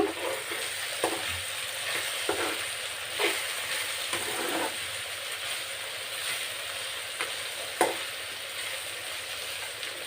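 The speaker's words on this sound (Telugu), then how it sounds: "ఇప్పుడు వీటిని అయితే బాగా కలుపుకోవాలి." Vegetables with salt being stirred and fried in a pan for veg dalcha, a soft continuous sizzle broken by occasional scraping clinks of the spatula, fairly quiet and without talk.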